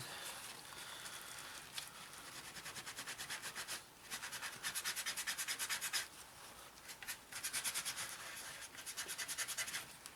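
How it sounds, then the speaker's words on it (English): Fingertip rubbing with a little water over a decal on an Eduard 1/32 Messerschmitt Bf109E-3 model kit makes soft, rhythmic scratchy strokes in repeated runs, quiet and close with brief pauses. "just gently rub over the surface detail to get rid of it all, or just lift it"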